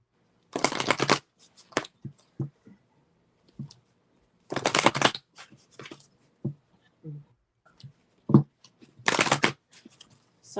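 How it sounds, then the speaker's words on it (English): A deck of cards is shuffled for a psychic reading in repeated fast riffling bursts, close and crisp, with soft taps and card handling in between and no talk. "I have to shuffle again"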